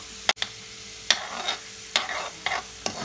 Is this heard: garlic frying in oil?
yes